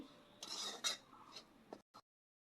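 Metal spoon scraping and clinking in a pan while paneer mixed with salt is stirred for mango-semolina sandesh, a few brisk close strokes that stop abruptly.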